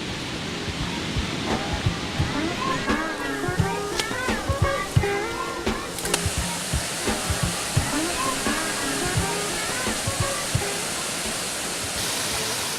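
Water splashing and sloshing at a waterhole where men wash sticky rock honey off themselves, a steady rushing wash with irregular close splashes and scattered voices throughout.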